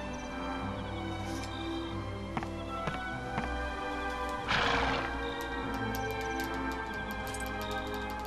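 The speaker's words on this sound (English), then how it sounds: "We got our horse and buggy back" A horse whinnies once near the middle of a Dragon Quest 8 game scene, set against a steady bed of background music with faint clip-clop.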